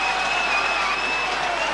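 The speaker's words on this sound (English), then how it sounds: "And the Featherstone fans are cheering." Featherstone rugby league fans cheer during a 1988–89 match against St Helens, a brief, steady wash of crowd noise and clapping with a faint whistle-like tone running through it.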